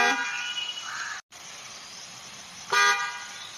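A car horn honks in two blasts, a long steady tone at the start and a shorter, louder toot near the end, with a brief silence between.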